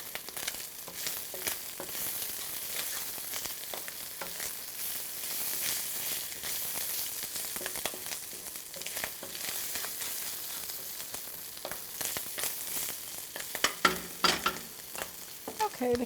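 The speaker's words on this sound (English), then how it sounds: "We're going to let the kale cook for about 2 minutes in with the pasta." Kale simmering with pasta in a pan over low heat gives a steady, close hiss and bubbling, with light clinks of stirring near the end and no talk.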